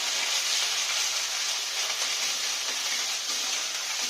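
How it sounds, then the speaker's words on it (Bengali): Ginger and garlic sizzle steadily in hot oil in a pan, a continuous bright frying hiss with no talking, cooking for a Bengali rupchanda fish curry. "আদা রসুনের গন্ধটা ভেজে একটু গন্ধটা চলে যাবে, একটা গন্ধ রয়ে যাবে, একটুখানি ভেজে নিই।"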